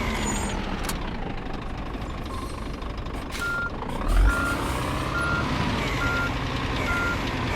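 A truck reverses in On The Road Truck Simulator, its backup beeper pulsing steadily over a continuous engine drone, with a short air-brake-like hiss midway.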